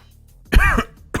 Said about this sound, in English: coughing right into the microphone now